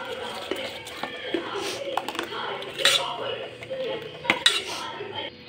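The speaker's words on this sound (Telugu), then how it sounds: "ఇది వేసేసుకొని బాగా కలిపేసుకోవడం" A spoon stirs coconut dosa batter in a bowl, with repeated clinks and scrapes against the bowl. A voice talks over the mixing.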